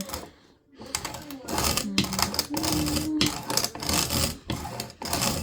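Spong No. 2 cast iron hand-cranked coffee grinder milling rice into fine powder, with a steady, rhythmic mechanical grinding and rattling that carries on nearly throughout after a brief pause near the start.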